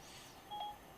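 A single short electronic dialing tone from an Apple CarPlay phone call sounds briefly over quiet background hiss.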